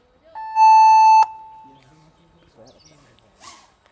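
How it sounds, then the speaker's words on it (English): A drone race start beep at the IDRL event at Technex: one loud, steady electronic tone held for under a second and cut off sharply, followed by faint chatter and crowd noise. "No, no, at the beep."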